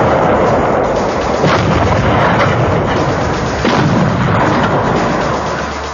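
A D-30 howitzer fires a high-explosive fragmentation shell: one loud, sustained booming roar filling the clip, with rumbling waves like thunder and no voices.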